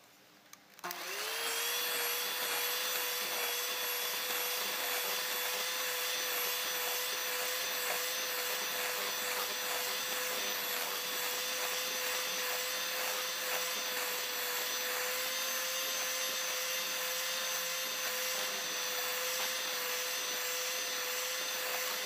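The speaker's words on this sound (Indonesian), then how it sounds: "Untuk tahap ini mixer adonan menggunakan kecepatan sedang saja." An electric mixer beats cake batter of brown sugar at medium speed, switching on after a moment into a loud, steady whirring drone with a constant pitch that runs unbroken to the end.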